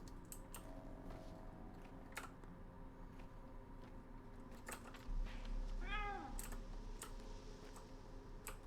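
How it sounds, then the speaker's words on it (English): A cat in the Pathologic 2 video game lets out a single rising-and-falling meow midway through, over a quiet ambient background with faint ticking clicks. "I heard a cat."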